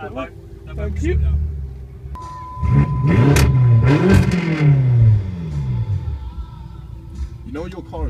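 A loud car arriving at a large supercar meet in the UK revs and accelerates hard, its engine note sweeping up and down in repeated surges close by, while a person talks over the start.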